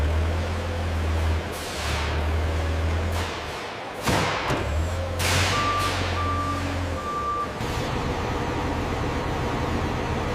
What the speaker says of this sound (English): A truck backs into the loading bay